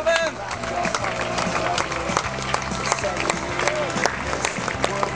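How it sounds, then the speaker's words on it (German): Spectators clap at the finish line of a town running race, the Altstadtlauf in Lohr am Main, in a steady patter of applause mixed with crowd noise and a loud tonal background. "Applaus."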